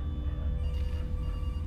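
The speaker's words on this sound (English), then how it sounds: "There's a phone ringing." A telephone rings in a horror video game, a steady electronic ring over a low droning background hum, with no talking.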